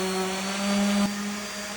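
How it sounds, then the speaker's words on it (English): A power sander runs on a handmade wooden console table, a steady droning motor hum with a slight pitch shift midway, close and alone. "now I'm gonna sand this completely smooth and we'll see how it turned out"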